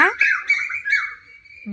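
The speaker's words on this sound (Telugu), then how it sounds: "పక్షులు అసలు మాట్లాడనివ్వట్లేదు" Birds squawk and chirp loudly and close by on a rainy morning at home, harsh repeated calls filling the short stretch.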